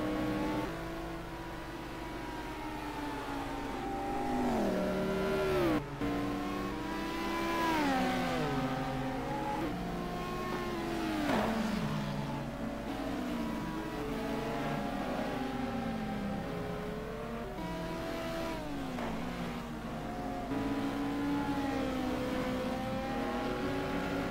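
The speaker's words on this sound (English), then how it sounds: "Tony Liddell in a very second-hand looking Porsche." A Porsche race car in a sim racing game at the Zolder circuit revs through repeated rising and falling gear changes, and other engines mix in. The sound is steady and moderately loud, with no talking.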